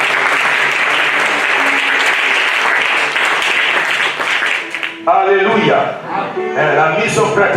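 A church congregation claps and cheers loudly for about five seconds at an evening youth seminar, the applause then thinning out as a preacher's voice comes in over the fading claps.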